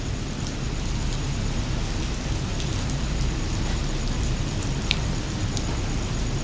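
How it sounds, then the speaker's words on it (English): Steady rain falling in a small city in China, a continuous even hiss with low rumble underneath and faint scattered drips, no voices. "Doing my journal. While it's raining."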